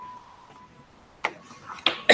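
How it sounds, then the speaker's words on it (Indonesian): A woman coughs close to the microphone during an online teachers' discussion, two sharp bursts near the end after a quiet stretch with a faint tone. "Maaf ya Bu, ini saya batuk Bu"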